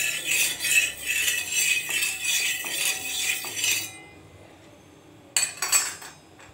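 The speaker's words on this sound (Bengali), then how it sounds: "এবার ভালো করে একটু নেড়ে দিচ্ছি।" A spatula stirs food in a pan with a little oil, with bright scraping and metallic clinks, close and busy for several seconds. It goes quiet, then a short renewed burst of scraping follows.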